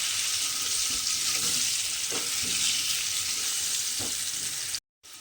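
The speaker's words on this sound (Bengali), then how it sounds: "নুন আর হলুদের গুঁড়ো দিয়ে আলুটাকে কিন্তু খুব ভালোভাবে লাল লাল করে একটু ভেজে নেব।" Potatoes fry with salt and turmeric in a pan, giving a steady broadband sizzle with a few soft clicks of stirring, close and continuous before a brief cut near the end.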